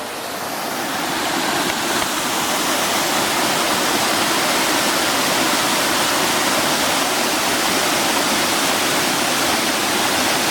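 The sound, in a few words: small waterfall in a stream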